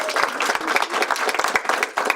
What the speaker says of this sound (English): I'll give them a big round of applause.